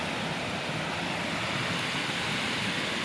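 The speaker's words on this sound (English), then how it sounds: "this nice little creek, waterfall, whatever you want to call it. Nice and loud too." Small creek waterfall rushing loudly beside a campsite at Baker Lake, a steady close broadband roar of falling water that stays constant with no voices.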